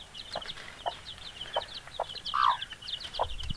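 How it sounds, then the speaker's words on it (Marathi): A hen clucks in short, evenly spaced calls while chicks peep softly in a continuous high chatter, fairly close and without talking. "कोंबडी आणि तिचे पिल्लं किती मस्त इथं खेळताना आपल्याला दिसत आहेत"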